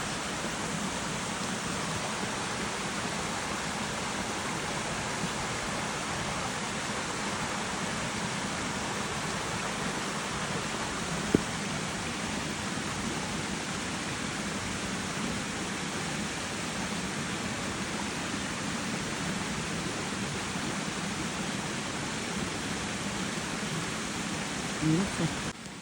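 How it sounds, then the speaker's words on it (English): A creek in McCormick's Creek State Park, Indiana, flows steadily beside a rocky forest trail, with a broad, constant rushing wash heard close for the full length and no talking. "This is the creek."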